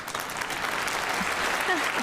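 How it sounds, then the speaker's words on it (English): A polite smattering of golf-style clapping from a small audience during a radio talk show, soft and steady for a couple of seconds. "golf clap for that"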